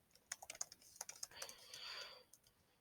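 Quick, uneven keystrokes on a computer keyboard as a follow-up message is typed, with a run of clicks, then a brief denser flurry and a few final taps, close and fairly quiet with no talking.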